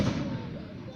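A boombox firework going off, a single dull boom with a short decaying rumble, close and fairly loud.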